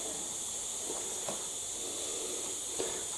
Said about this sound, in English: It's just a matter of keeping that hissing going